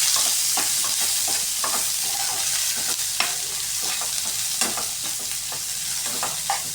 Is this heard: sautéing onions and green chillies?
yes